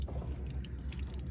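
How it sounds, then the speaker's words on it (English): Water runs steadily from an RV's outdoor faucet, a close, continuous splashing hiss with small drips, heard alone without talk. "That feels like hot water, but it's coming out the cold side."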